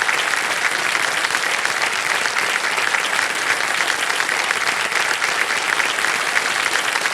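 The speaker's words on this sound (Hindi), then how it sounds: "तालियां बज जाए इनके लिए" Studio audience applause on a TV quiz show as a contestant receives a prize cheque, a steady, even wash of many hands clapping for several seconds without pause.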